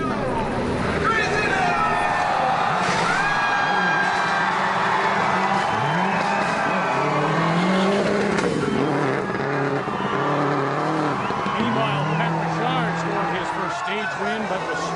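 A rally car engine revs and races along a stage road at the Canadian Rally Championship's Rallye Baie-des-Chaleurs, a rough, rising and falling engine note with possible tire noise, heard continuously under commentators talking.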